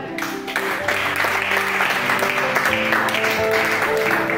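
A church congregation claps steadily and densely throughout, mixed with music and voices in a loud, reverberant worship hall.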